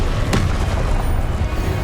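A Confringo fire spell explodes in Hogwarts Legacy with a single sharp blast early on, followed by a loud rumbling low-end roar that stays dense and continuous to the end.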